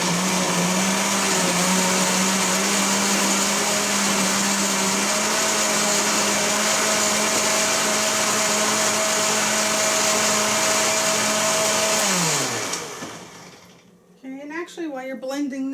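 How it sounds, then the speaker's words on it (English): A blender whirs loudly and continuously for about twelve seconds while blending soup ingredients, then spins down to a stop, and a voice follows briefly. "Okay, so I'm going to let that blend."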